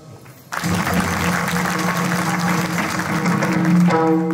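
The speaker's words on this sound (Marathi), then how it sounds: "ज्याने ज्याने टाळ्या वाजवल्यात" Crowd applause at a village gathering breaks out abruptly after a brief quiet moment, then stays loud and continuous, with a steady hum running underneath.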